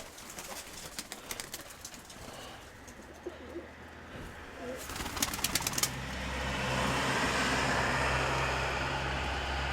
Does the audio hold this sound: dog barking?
no